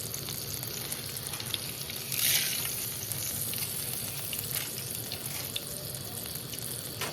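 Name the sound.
dried chillies and curry leaves spluttering in hot oil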